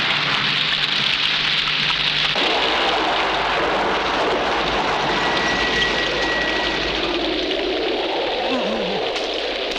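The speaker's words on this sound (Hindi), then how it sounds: "लगता है जबरदस्त तूफान आने वाला है।" Heavy rain pours steadily through a film scene as a strong storm approaches at an old, deserted mansion, a dense wash of noise throughout with a faint low rumble that may be thunder and some voices underneath.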